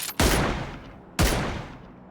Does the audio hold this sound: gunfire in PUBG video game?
yes